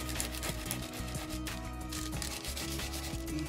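A hand rubs steadily over the surface of a wooden rustic farmhouse serving tray, producing a continuous close scrubbing friction sound with no pauses and no talk.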